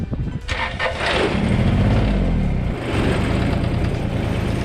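A small tractor engine, one of a Terramite or Kubota, cranks over and catches, then runs at a loud, steady idle close by.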